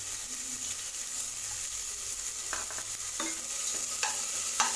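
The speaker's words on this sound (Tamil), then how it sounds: "வெங்காயத்தை லேசாக வதக்கி விட்டிங்கன்னா போதும்" Chopped onion and garlic hiss softly in hot oil in a pan. Several distinct scrapes come near the end as a spoon stirs them, with no voices.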